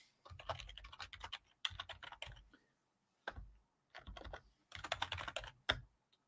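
Keys clatter on a computer keyboard in quick bursts of typing separated by short silent pauses, quiet and close, with no talking.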